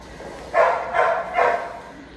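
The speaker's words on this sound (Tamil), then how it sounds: "நாய் கொலைக்குது தெரியுதா?" A dog barks three times in quick succession, close and loud, in an apartment building, each bark short and sharp with brief pauses between.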